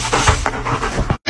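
A dog pants close by in quick, rhythmic huffs of breath that break off abruptly near the end.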